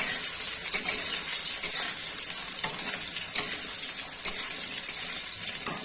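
Potatoes frying lightly in oil give a steady high sizzle with small irregular pops and stirring clicks, close and alone with no talk.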